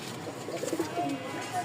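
Pigeons for sale, including a white pair, give soft, low, throaty coos close by while someone talks over them.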